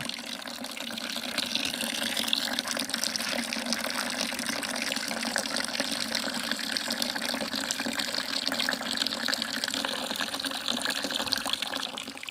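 Water gushes steadily from a village tap used for bathing and fetching water, a dense continuous rush that stays loud and even throughout with no talking.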